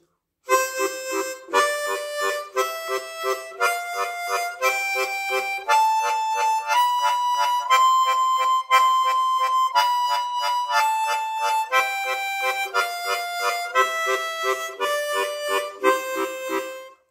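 A harmonica plays a rising and falling run of single notes in a three-beat waltz rhythm, each note with a tongue slap, evenly spaced, clear and close with no talk.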